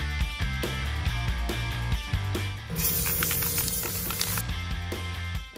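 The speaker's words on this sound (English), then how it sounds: "some white spray paint" A short burst of hissing white spray paint hits cowboy boots, lasting under two seconds, over louder background music that plays throughout.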